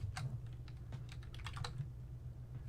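Keys clatter on a computer keyboard in a quick irregular burst of close taps. A low steady hum sits underneath.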